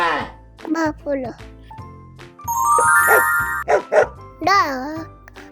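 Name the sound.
dog barking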